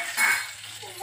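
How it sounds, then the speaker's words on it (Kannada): Mustard seeds and spices for a tempering hit hot oil in a short, bright sizzling burst, then fade to a faint crackle, with light kitchen clinks nearby. "ಒಗ್ಗರಣೆ ಸೌಂಡು ಇವಳಿಗೂ ಇಷ್ಟ"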